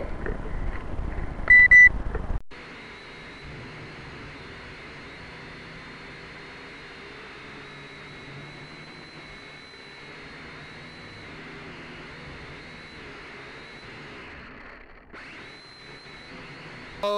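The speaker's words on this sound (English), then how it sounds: "Did you hear the shrieking from the frickin' drone?" A shrill, steady high-pitched whine from the motors of a Syma X5C quadcopter drone stuck in a tree runs continuously for many seconds after a brief louder burst at the start, fairly faint and sustained.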